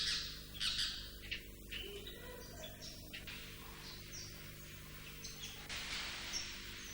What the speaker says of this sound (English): It also houses many colourful and exotic birds, kookaburras, ibis, hornbills, and startlingly, iridescently plumed birds like those we can see here.